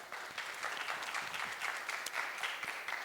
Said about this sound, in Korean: 김철용 선생님 모시겠습니다. 큰 박수 부탁드립니다